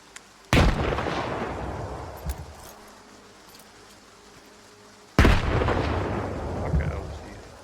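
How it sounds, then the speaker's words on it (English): Two loud, close grenade blasts in Stalker 2, set several seconds apart, each striking sharply and then rumbling away in a long decaying tail, with smaller thuds and clatter between them. "Let me throw a grenade at them."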